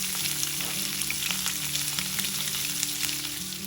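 Chopped onion sizzles steadily in hot oil tempered with mustard seeds, cumin and curry leaves, a loud, close, continuous frying hiss with faint stirring clicks and no voices.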